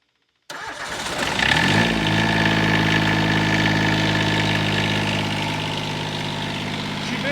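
A John Deere 332 lawn tractor engine cranks briefly and catches, then settles into a steady, loud idle that continues alone until the end.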